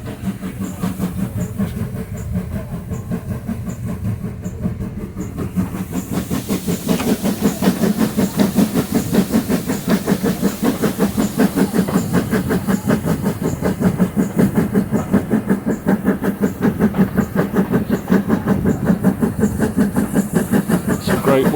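A Great Western Railway steam tank locomotive labours uphill on the Bodmin line, heard from aboard as a steady, loud rhythmic chuffing and hiss with rolling wheel clatter that builds after a few seconds and continues without pause.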